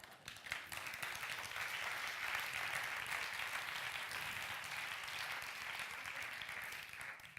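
Audience applause fills a conference hall, a dense, even wash of clapping held for about seven seconds, faint and distant in level, with no speech over it.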